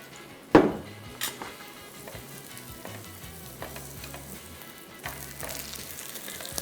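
Oil sizzles in a pan with a steady crackling hiss after one sharp metallic clatter at the start, followed by a few lighter knocks. No one speaks.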